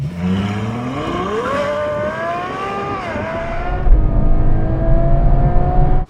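A Lamborghini Aventador SVJ supercar pulls away to warm its tyres, the engine note rising smoothly through a long acceleration, then easing into a rougher, heavier drone, loud and close.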